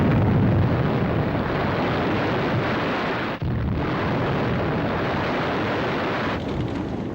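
Factories and fish oil tanks blown up during a wartime commando raid, a dense, continuous roar of explosions with one brief dip midway, loud and sustained without voices.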